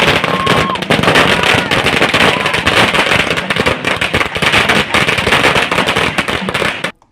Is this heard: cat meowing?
no